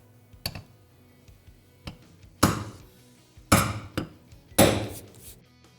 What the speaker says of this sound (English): when you're driving the bushing into place, you want to take your time with this and be careful